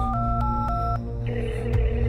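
A phone being dialled to place a call: a quick run of four or five crisp keypad tones in an even rhythm, close and clear over a low steady hum, with no talking.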